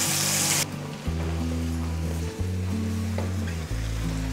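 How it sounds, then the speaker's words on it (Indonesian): Ground spice paste hits hot cooking oil in a wok and sets off a loud, steady sizzle and crackle of frying with a low hum underneath, close and continuous with no talking. "Minyak panas, lalu kita masukkan bumbu halusnya."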